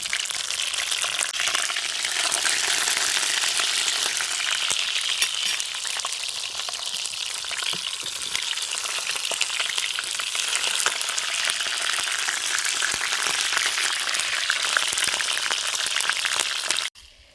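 Peppers fry in hot oil in a pan with a continuous, dense sizzle and crackle, close and steady throughout, ending abruptly.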